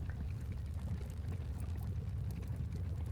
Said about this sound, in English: Here I have a whole bunch of water wheels sitting in the river, bringing power